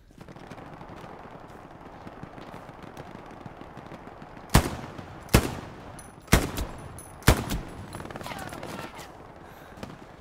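Machine gun fire in the WWII shooter Hell Let Loose: four sharp, loud gunfire bursts spaced about a second apart, cutting through a steady low battlefield rumble.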